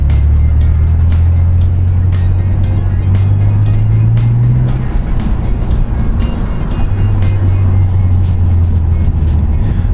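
A 1991 Mitsubishi 3000GT VR4 twin turbo driving over a rough, broken road, with a loud steady engine drone rising and falling, road rumble and repeated knocks and rattles from the bumpy surface, heard from inside the car.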